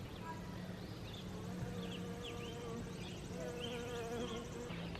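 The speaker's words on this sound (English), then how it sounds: "look, there's a honeybee right there" Honeybees buzzing around a vegetable garden, a faint, steady hum set against outdoor ambience with birdsong chirps in the background.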